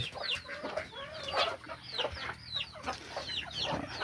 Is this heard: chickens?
yes